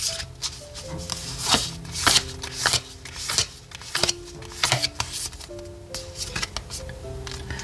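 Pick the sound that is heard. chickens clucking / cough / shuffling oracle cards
shuffling oracle cards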